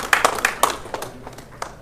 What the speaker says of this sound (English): Give Bakari a round of applause.